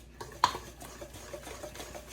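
Pancake batter being whisked in a bowl, a soft scraping stir with a sharper clink near the start, then quiet irregular mixing strokes throughout, close and faint.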